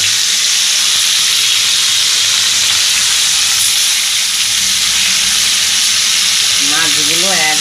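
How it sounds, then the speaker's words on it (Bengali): Fresh tilapia frying in hot oil with steady loud sizzling and hiss, a dense crackle that holds throughout, with a brief bubbling burst near the end. "মাছগুলো ভেজে নেব।"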